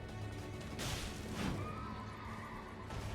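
A horse whinnies in a video game, a clear neigh standing out over a steady game soundtrack with light hoof clip-clop, no voices.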